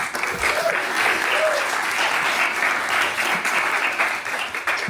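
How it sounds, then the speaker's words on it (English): A crowd applauds with sustained, dense clapping from start to finish, loud and even. "Round of applause for Weeksville."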